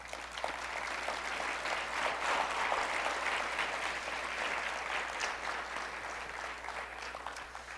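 A church congregation applauds during a sermon, giving steady, dense clapping from many hands over a constant low hum that stays even for several seconds.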